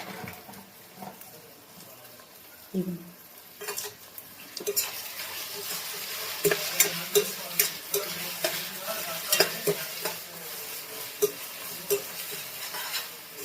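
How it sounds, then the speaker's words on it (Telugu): Cashews, coriander and mint fry in oil in a pan for Kaju chicken curry, with a steady sizzle under frequent clinking stirs of a spoon against the pan that grow busier and louder as it goes on. "ఇది ఫ్రై అయ్యే వరకు ఉంచుకున్నాను ఇంకొక 5 మినిట్స్"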